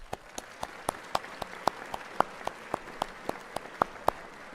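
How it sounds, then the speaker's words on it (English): Commencement ceremony audience giving a round of applause for a foundation board: sparse, well-separated claps in an uneven rhythm over a soft background hum, with a few louder claps standing out. "applause."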